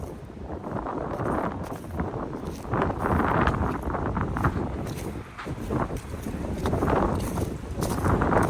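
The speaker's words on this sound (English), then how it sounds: "Windy day here in Rochester, New York." Strong wind gusts over an open cemetery in Rochester, New York, buffeting the microphone in a loud, continuous roar that swells and eases in waves.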